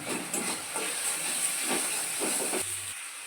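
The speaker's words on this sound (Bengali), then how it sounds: "এবার আমি খুব ভালো করে মশলাটাকে কষিয়ে নিই" Spice masala for an egg curry sautéing in a pan, giving a steady close hiss and sizzle with soft stirring scrapes and a brief low knock near the end, no voices.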